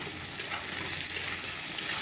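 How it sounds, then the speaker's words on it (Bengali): Soybean chunks frying in a pan with potato, tomato and onion, giving a steady, close hiss and sizzle with faint stirring scrapes throughout and no talking. "এখানে আলু টমেটো পেঁয়াজ"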